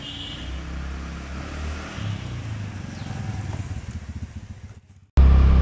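A motorcycle carrying a rider and a pillion passenger heads out onto the NH-1 highway from Delhi toward Murthal, with a steady engine drone and road rumble throughout. It cuts out abruptly just before the end into a loud, distorted burst.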